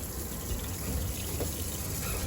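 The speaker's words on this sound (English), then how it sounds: "That's got cold water running to the shower." Cold water running steadily from a valve into a lake house shower, a continuous broadband rush of flowing water with no pauses.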